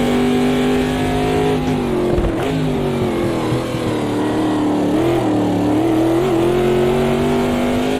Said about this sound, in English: Listen to the sound of this glorious engine.